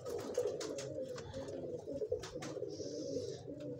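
Pigeons coo steadily at close range, a low rolling murmur repeating through the clip with a few faint higher chirps above it; no one speaks.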